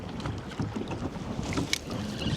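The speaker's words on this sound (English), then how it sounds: "This wind is just pushing me all over random." Wind buffets a fishing boat on open water during walleye jigging, a steady rushing gust with microphone rumble and light water movement, no talk.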